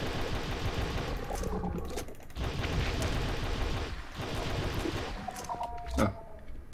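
Bursts of rapid automatic gunfire in the Red Faction video game, several rattling volleys separated by brief pauses, with a sharp louder shot near the end and faint game chatter in the background.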